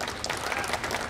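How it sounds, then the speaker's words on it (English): Brief burst of applause from an audience at a trailer launch event, a dense wash of clapping with no gaps. "Please, a huge round of applause for all of them."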